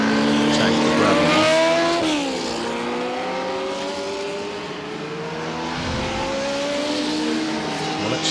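Race cars on the Goodwood Revival circuit, loud engines revving and shifting as they pass near, pitch rising and falling, with a commentator talking over them.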